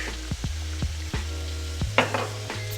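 Garlic and sun-dried tomatoes sizzling in a little oil in the center of a pan, a steady close hiss broken by several sharp taps and scrapes of a utensil.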